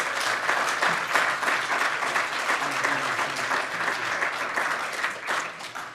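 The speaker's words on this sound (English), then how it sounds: "How about a good round of applause for them?" An audience at a restorative justice gathering in Indian Country applauds for veterans posting the colors, dense sustained clapping from a large crowd that runs unbroken for six seconds at close range.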